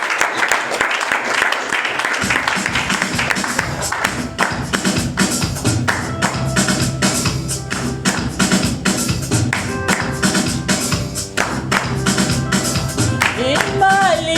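A church congregation at a special Sunday wedding-couples service in Treichville claps loudly and continuously in a steady, rhythmic beat, with crowd voices and music swelling underneath.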